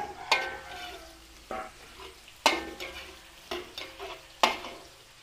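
Chopped onion and garlic stirred in a hot pan for a Filipino dish, with a soft steady sizzle broken by several sharp scraping stirs of the spoon against the pan.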